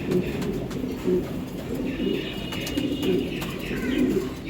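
Racing pigeons coo in low, throaty repeated calls close by, with occasional chirps and rustling in a loft, under a constant background murmur.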